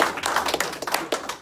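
A crowd at a political talk bursts into brief, dense applause, close and fairly loud, with individual claps audible.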